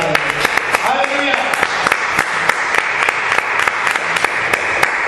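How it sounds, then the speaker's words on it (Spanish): Church congregation applauding after a Bible reading, a steady, dense patter of many hands clapping close by for several seconds, with sharp individual claps standing out and a voice briefly heard early on. "Un fuerte aplauso a la palabra."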